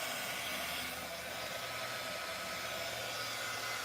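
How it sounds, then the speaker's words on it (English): A heat gun blows steadily on a glitter-coated tumbler, melting the glitter, with a constant close, loud airy whoosh and no talking. "You can kind of move the glitter if you put your heat gun close enough."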